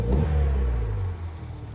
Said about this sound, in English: And we've got really good acceleration.